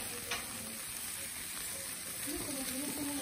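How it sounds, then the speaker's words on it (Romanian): A barbecue grill sizzles steadily at an outdoor birthday gathering, a continuous frying hiss throughout with a low voice murmuring briefly near the end. "Sfârâie grătarul Nando."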